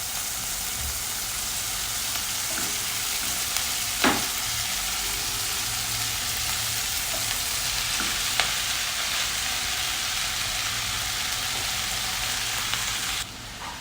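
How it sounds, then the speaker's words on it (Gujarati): Capsicum and cooked pasta sauté in a hot pan, a steady broadband sizzle running throughout with a couple of brief sharp clinks of a spoon against the pan, ending abruptly near the close. "કેપ્સિકમ અને પાસ્તા બંનેને આ રીતે સાંતળી લેવાના છે"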